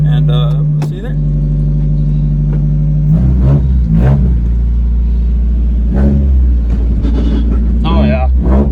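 A car engine idles with a steady low rumble, then revs in several rising bursts near the mic as it is driven up onto a trailer, with people talking over it.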